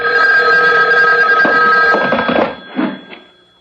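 A telephone bell rings at night in a radio drama, a steady loud electric ring lasting a few seconds, then fading into short softer bursts and a final brief tail before quiet.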